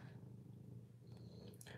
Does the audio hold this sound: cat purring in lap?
yes